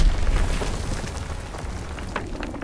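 Azon bomb explosions in the World War II shooter game Call of Duty WW2, a dense, loud rumbling blast that fades into a long, low roar with a scattered crackle.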